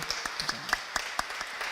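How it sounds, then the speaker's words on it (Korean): Church congregation applauding during a Sunday worship service, scattered claps with a few sharper hand hits standing out, moderately faint and fairly distant, with light murmuring underneath. "우리 박수 한번 쳐주시기 바랍니다."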